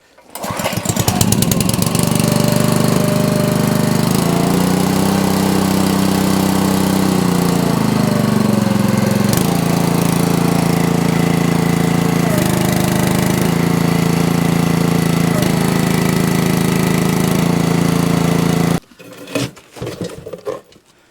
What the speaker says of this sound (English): it really sips fuel running a log splitter like this